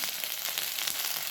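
Chopped onion sizzling in a hot kadai for a village-style mixed vegetable sabji, with garlic, ginger and cumin powder going in alongside; a steady, close, continuous crackling hiss with no talk.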